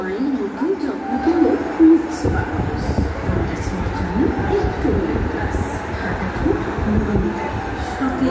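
A Kolkata metro train rumbles loudly and continuously through the station, with murmuring voices beneath the steady roar.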